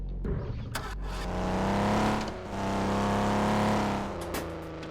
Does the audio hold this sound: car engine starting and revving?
yes